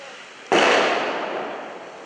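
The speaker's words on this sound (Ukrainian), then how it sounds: "Звуки вибухів не стихали" A single loud explosion booms suddenly and rolls off into a long, fading rumble.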